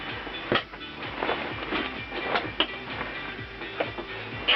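A sewing machine stitches the top of a pocket on a modified DCU uniform, producing a close, rapid mechanical chatter in short bursts with brief pauses between runs.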